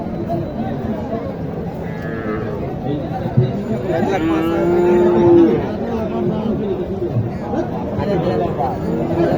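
Sahiwal cattle moo at a busy cattle market, a drawn-out low moo rising clearly above a crowd's chatter and nearby talk, with people's voices continuing throughout.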